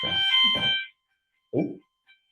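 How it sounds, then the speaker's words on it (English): Building fire alarm sounding a loud, harmonic electronic tone for about a second, then two short, quieter blips after a pause, heard alone with no talk. "And that is our fire alarm."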